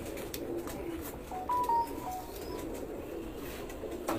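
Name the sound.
pigeons cooing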